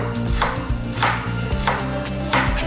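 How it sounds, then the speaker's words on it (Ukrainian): A knife chopping carrots on a board, sharp repeated cuts in a quick, regular rhythm over a steady background hum. "я швидко нарізаю моркву"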